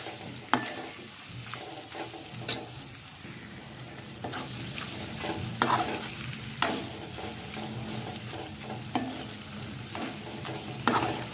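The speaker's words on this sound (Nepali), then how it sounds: "यो परवललाई चाहिँ म यसरी मसलामा मिक्स गरिदिन्छु।" Pointed gourd (parwal) stirred into masala and frying in a pan for a potato-parwal curry: a steady close sizzle with irregular scraping stirs and clacks of the spoon, no voices.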